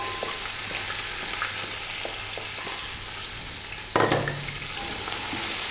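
Chopped onions fry in oil with spices, a steady low sizzle with light clinks, then a sudden louder burst of hissing as the onions hit the pan, settling back into a constant fry.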